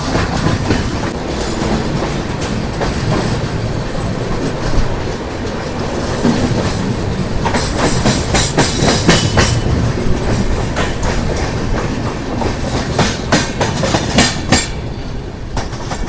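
Telangana Express passenger train running from Hyderabad toward New Delhi, heard from inside a general coach: loud continuous rumble with rhythmic clickety-clack of wheels over rail joints, rising in intensity midway.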